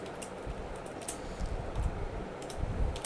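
Typing Python code on a computer keyboard, a quick irregular run of light key clicks, quiet and close, with no talking.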